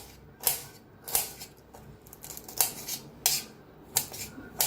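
Raw mango being cut finely with a knife on a board makes sharp, close chopping clicks in an irregular rhythm, roughly eight distinct strokes separated by short pauses, with no talking.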